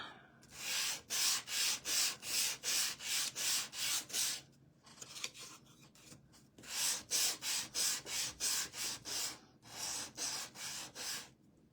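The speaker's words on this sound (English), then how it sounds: "I want it to be a lighter color, so I'm gonna sand this." Hand sanding of a wooden standing bunny craft piece to lighten its finish: two runs of about eight brisk, even rasping strokes each, close and clear, with a short pause between them.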